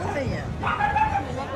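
Puppies give short yips and whimpery barks, fairly close, mixed with background chatter and people talking.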